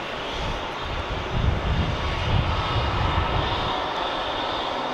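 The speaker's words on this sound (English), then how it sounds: "we got Spirit here, taxiing in" A Spirit airliner taxiing in at Logan Airport at night gives off a steady, broadband jet engine roar that holds at moderate level from start to finish, with no talk over it.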